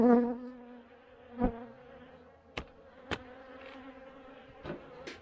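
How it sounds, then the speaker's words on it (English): Close buzzing of honey bees at an opened hive with a droning hum, punctuated by a few sharp clicks and knocks nearby. "There's bees on top and lots of bees on the bottom."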